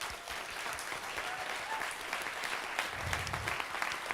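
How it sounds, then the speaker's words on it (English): A conference audience applauds the speaker Martin after his talk, a sustained wash of many hands clapping at moderate volume, with a low murmur rising near the end. "round of applause for Martin"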